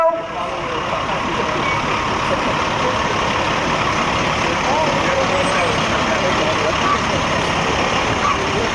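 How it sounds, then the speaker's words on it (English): A volunteer fire department's engine number 2 rolls past in a dairy festival parade, its heavy engine rumbling steadily and loud for several seconds amid broad outdoor crowd noise, with a voice talking over it. "Let's welcome the Highgate Volunteer Fire Department with their engine number 2"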